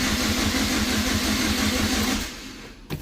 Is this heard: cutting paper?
no